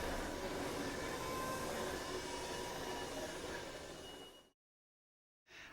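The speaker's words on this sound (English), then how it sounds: "The plant's Hudswell shunter is especially important to Andy at the moment" A rumbling Hudswell shunter locomotive on the Turnchapel and Cattewater Railway runs steadily with a broad mechanical roar and faint metallic squeals, then cuts out abruptly before briefly resuming.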